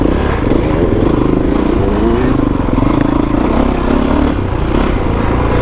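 Kawasaki KX450X dirt bike ridden along a single-track enduro trail, its engine a steady close-up drone with rough revving and clattering, continuous and loud throughout.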